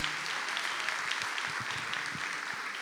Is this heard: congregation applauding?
yes